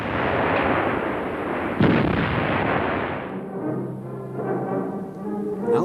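A German 88 mm flak gun fires in the artillery role, giving a loud booming blast with a rumbling roar that fades over several seconds, followed by lower mechanical rumble.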